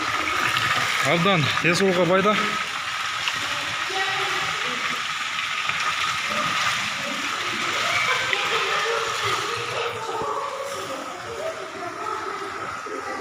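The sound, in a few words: hot spring water flowing from a pipe out of the ground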